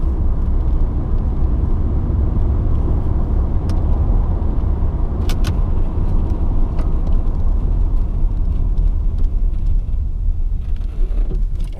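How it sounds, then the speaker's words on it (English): Truck driving forward with the transmission still in park, the parking pawl grinding under a heavy, continuous low rumble of engine and road noise, with a few brief sharp clicks mixed in. "that was definitely the parking pole taking a beating"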